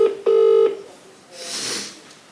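A telephone dials a call to a car dealership office: two short keypad tones, the second held a little longer, then a soft rustling handset noise, close and quiet with no speech.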